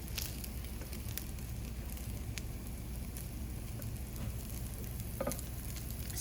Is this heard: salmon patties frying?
yes